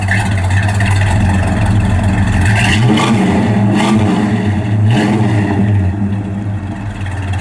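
A 1967 Plymouth Satellite with a 383 engine revs loudly and close by, its deep rumble climbing and falling through several throttle blips over a steady idle, with no one speaking.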